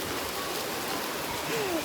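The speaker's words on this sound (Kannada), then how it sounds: "ಊಟ ಮಾಡ್ಕೊಂಡು ಮನೆಗೆ ಹೋಗಕ್ಕೆ ಹೊರಟ್ರೆ ಮಳೆ ಬರ್ತಿದೆ ಗೈಸ್" Rain falling steadily as someone heads home after a meal, a dense even hiss of drops on surfaces close by, with a faint tonal whine near the end and no talk.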